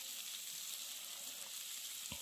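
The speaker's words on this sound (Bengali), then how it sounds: "ভালো করে ভাজা হয়ে যাচ্ছে।" Onions fry in a pan for a home-cooked meal. A soft, even sizzling hiss continues throughout, fairly quiet, with a single brief knock near the end and no voices.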